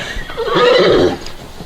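A horse gives one loud, close whinny lasting about a second while being fitted with a western saddle, set against quiet background noise.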